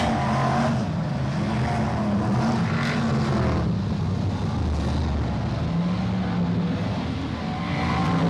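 BriSCA F1 stock cars racing at Sheffield's 2004 British Championship, engines droning loudly and continuously as cars roar past, with a steady wash of rumbling motor noise and crowd ambience throughout.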